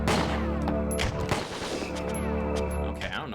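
Gunfire in the N64 game Winback while headshotting a guard, several loud, dense bursts of shots over steady game music and effects, with a voice talking over it.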